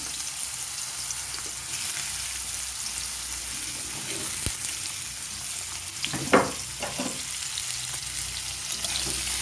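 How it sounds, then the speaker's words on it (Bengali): Potatoes fry in hot oil with turmeric added, giving a continuous hiss with a few sharper spatters and a scraping stir near the end and no voices. "কিছুক্ষণ আলুগুলোকে এইভাবে একটু ভেজে নেব।"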